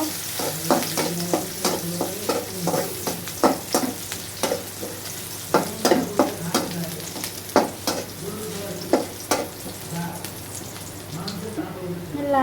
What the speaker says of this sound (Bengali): রসুন আর পেঁয়াজ দিয়ে বাগার দিব